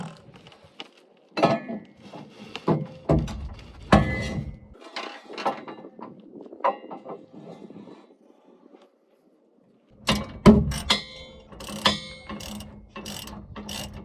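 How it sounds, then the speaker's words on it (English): Bolts being tightened into brackets of a universal RV hitch fitted to a bus, with bursts of ratchet clicking and metallic clanks, a quiet pause, then a faster loud run of ratcheting. "I'm just going to slide them in to each little bracket and tighten them down,"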